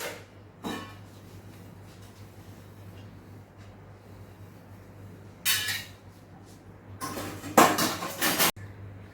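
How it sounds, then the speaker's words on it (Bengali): Dishes and pots being scrubbed and wiped in a home kitchen after cooking mutton, a steady low hum underneath with scattered clinks and a cluster of clattering metal and ceramic knocks near the end. "আর বাসন মাজলাম আমি, আর বাসন মুছে মুছে রেখে দিলাম"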